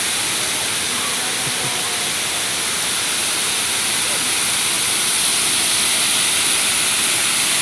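A strong water current rushes at a spring resort, making a loud, unbroken roar that fills the whole stretch.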